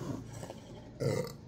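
A loud, deep burp after drinking Bazooka bubblegum-flavored soda rumbles out about halfway through, preceded by a softer throaty gurgle, with no talking.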